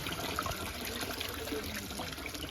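Water draining out of an opened biofloc fish tank, a continuous low trickling and gushing flow, fairly faint and steady, with no voices.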